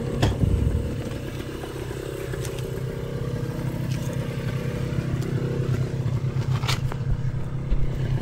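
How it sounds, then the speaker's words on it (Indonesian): An enduro motorcycle engine roars steadily nearby, with rattling and clattering over the drone as it rides along. "Gaban pakai enduro, Mubin pakai motor elektrik."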